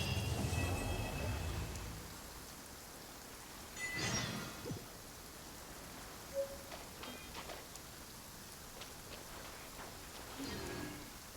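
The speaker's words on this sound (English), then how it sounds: "Quite a downpour." Steady heavy rain in the video game Genshin Impact hisses throughout at a moderate, even level, with a few louder rumbling swells breaking through now and then.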